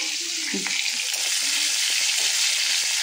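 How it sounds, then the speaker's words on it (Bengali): Tomatoes fry in a pan for a Bengali drumstick, potato and pumpkin curry, giving a steady, close broadband sizzle with a few faint clinks over it and no talk. "এই যে টমেটো হয়ে গেছে ভাজা"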